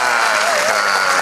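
Loud, sustained applause from an audience at a religious gathering, a dense continuous roar of clapping, close and full with a faint tonal hum running underneath.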